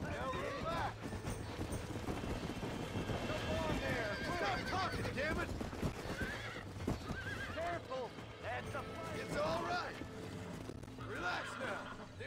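Horses in the video game Red Dead Redemption whinny repeatedly over a steady clatter of hooves while cattle and horses are being herded, with someone talking throughout.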